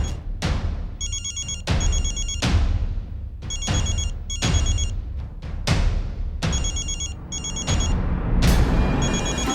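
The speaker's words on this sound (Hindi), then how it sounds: "फोन बज रहा है आपका, उठाइए पहले।" A mobile phone rings in a home, a repeating electronic ringtone in short regular bursts, heard over sharp percussive booms from a sitcom soundtrack.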